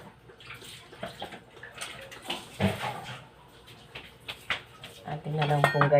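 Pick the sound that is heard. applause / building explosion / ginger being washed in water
ginger being washed in water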